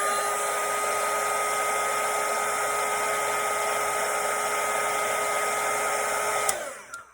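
A hair dryer blows steadily on a watercolour painting of a Christmas cottage, a loud, even whirring rush with a constant motor whine that runs unbroken for over six seconds, then cuts off abruptly with a click near the end.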